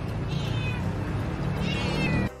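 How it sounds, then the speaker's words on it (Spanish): A domestic cat meows twice, close and clear, each cry a drawn-out tonal call with a short pause between, over a low background rumble. "Número 1. Maullido."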